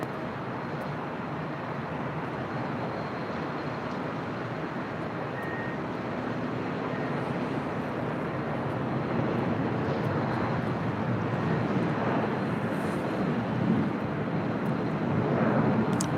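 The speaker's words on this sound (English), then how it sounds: "2647 heading back to Detroit, Michigan in this A321-200" Jet engines of a Delta Airlines Airbus A321-200 at LAX give a steady, broad roar that swells slightly toward the end, heard alone without talk.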